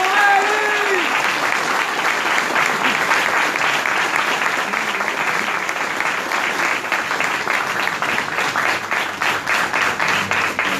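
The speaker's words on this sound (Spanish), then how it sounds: "Fuerte el aplauso" Audience at a political campaign launch in Gesell applauding steadily, a dense sustained clapping that stays loud and even throughout.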